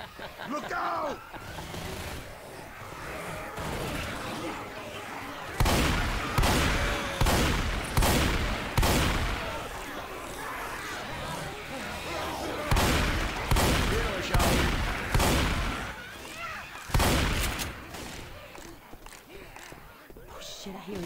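Bursts of gunfire from the Left 4 Dead 2 Pesaro campaign crack out in rapid clusters, loud and close, several volleys separated by brief lulls, with shouted voices and chaotic combat noise underneath.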